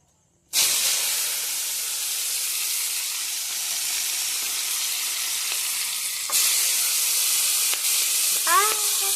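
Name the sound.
potatoes frying in oil in a wok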